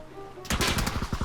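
Sudden burst of rapid automatic gunfire in a Korean battle royale shooter game, loud and close, a dense rattle of shots cutting in after a quiet moment.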